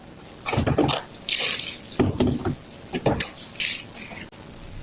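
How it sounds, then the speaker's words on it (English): Gasoline splashing from a gas can onto a Cadillac Escalade, caught on outdoor surveillance audio: irregular liquid pouring and splattering bursts, fairly close and moderately loud, with no talk. "audio from the surveillance can be heard of gasoline being poured on the vehicle"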